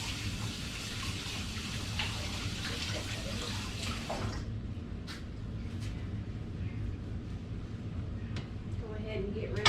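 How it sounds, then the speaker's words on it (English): A kitchen tap runs while hands are washed after handling a breadcrumb coating, a steady rushing flow for about four seconds that then drops to a softer trickle, with brief splashes and a voice talking over it. "I'm gonna wash my hands."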